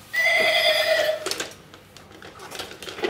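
A battery-powered toy horse pulling a carriage lets out a loud electronic whinny when switched on, followed by soft mechanical ticking and clicking as it starts to move.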